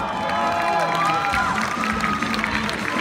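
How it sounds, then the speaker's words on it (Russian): Audience applause and cheering for dance couples at a rumba and samba ballroom competition, a continuous crowd wash with a voice speaking over it throughout. "Аплодисменты нашим парам!"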